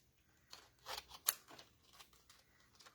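Scissors snip through white cardstock in a quiet crafting session, a few close, crisp cuts clustered in the middle with one sharp loud snip among them, no talking.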